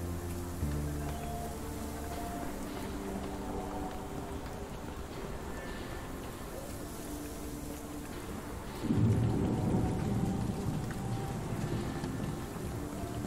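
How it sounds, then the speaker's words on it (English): Steady rain in London with a deep rumble of thunder building around midway, fairly faint and distant, with low tonal music underneath. "Thunder sounds weird in London."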